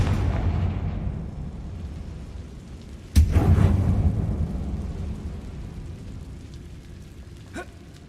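Confringo blasting spell in the Hogwarts Legacy video game, a sudden deep explosive boom that rolls out into a long rumbling decay over a constant low ambient drone, followed later by a faint small crack.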